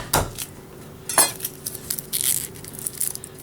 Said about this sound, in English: I like to use 1 clove of garlic and smash it down.